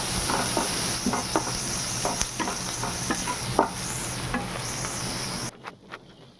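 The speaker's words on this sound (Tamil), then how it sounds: "இப்போ ஆனியன் நல்லா வதங்கிடுச்சு." Onions sautéing in a pan for a spinach curry give a continuous close sizzle punctuated by scraping stirs of a spoon, before the sound abruptly drops away near the end.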